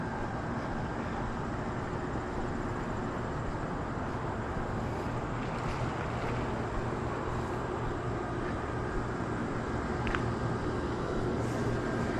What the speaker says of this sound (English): Man, these air conditioners are loud.